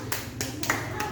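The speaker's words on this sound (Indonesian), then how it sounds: "Tepuk tangan." A classroom gives a brief burst of applause, a few sharp claps heard under and between talk, faint and quick.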